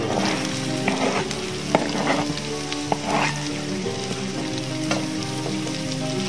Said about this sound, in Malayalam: നന്നായി മൂത്ത് വന്നിട്ടുണ്ട് ഇനി അതിലോട്ട് ഞങ്ങൾ മൂന്ന് വലിയ സവോള ആഡ്